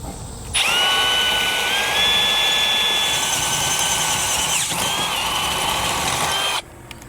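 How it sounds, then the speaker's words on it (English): A power drill with a 5/16 bit bores straight through a towed vehicle's tow bar mount for a protective screen install, a steady loud whine running continuously for about six seconds, with a brief dip in pitch midway. "We're going to use a 5/16 drill bit. We're going to drill straight through."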